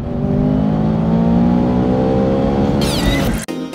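A steady, loud 2015 Ford Mustang EcoBoost four-cylinder engine drone with synthetic engine sound and rising harmonic tones, like revving under load, ending in an abrupt cut and a brief rapid rattle.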